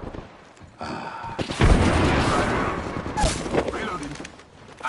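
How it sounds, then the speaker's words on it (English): Gunfire rings out in the Apex Legends video game: a dense burst of shots and impacts, loud and close, in a continuous volley for a couple of seconds, tapering into scattered reports. "Firing."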